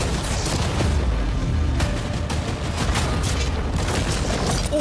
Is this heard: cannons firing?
yes